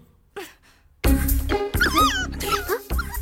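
A puppy whimpers and yips in short, high, wavering cries after a brief quiet opening, close and fairly loud, repeating several times in quick succession.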